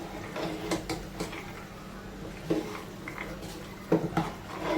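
Green peas being stirred with homemade spice masala in a pan, heard as intermittent metallic scrapes and clinks of a spoon against the pan, fairly close and quiet, with pauses between strokes.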